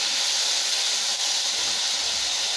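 A single green chilli sizzles in hot oil in a pan while radish sambar is cooked, giving a loud, continuous close-up hiss with no break for the whole moment.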